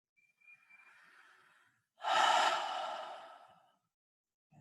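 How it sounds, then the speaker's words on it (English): During a slow yoga flow, one person breathes deeply: a faint, short inhale first, then a long, loud exhale that fades out slowly, close and alone in a quiet room. "Inhale and exhale."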